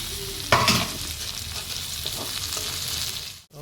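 Tomatoes and green chillies hit hot oil with onion, ginger and garlic for a goat curry, a sharp sizzle burst followed by steady frying and scraping stirs in the pan, close and clear.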